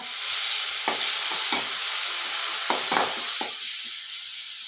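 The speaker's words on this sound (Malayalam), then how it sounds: "വെളിച്ചെണ്ണ ഒഴിച്ചിട്ട് കടുക് പൊട്ടിച്ചേ" Mustard seeds crackle and pop in hot coconut oil for a Kerala thoran, a steady close sizzle broken by several sharp spluttering bursts, with no talking.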